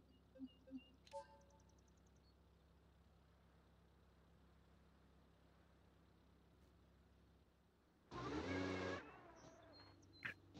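City traffic cars driving in the BeamNG driving game, a steady engine and road rumble running throughout, with a brief louder engine burst and tire noise near the end.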